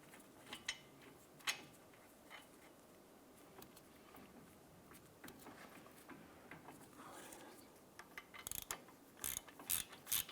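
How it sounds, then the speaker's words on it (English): A ratchet snugs down the front brake caliper bolts on a 2012-2017 Toyota Camry, giving faint, steady clicking and mechanical ticking close by, with a few sharper metallic clinks near the end. "let's go ahead and get those snug down."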